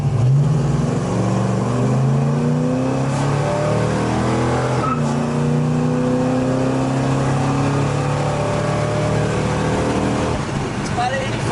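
A 1970 Dodge Super Bee with a 383 V8 accelerates from inside the cabin, its engine climbing through rising revs with shifts, loud and close, as a driver talks.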